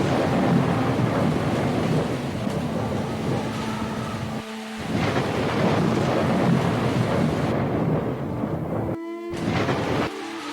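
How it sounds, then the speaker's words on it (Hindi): A loud, roaring thunderstorm of howling wind and heavy rain rumbles continuously, with brief dropouts and a low tonal drone underneath. "एक रात अचानक तेज आंधी और बारिश ने सब कुछ बर्बाद कर दिया"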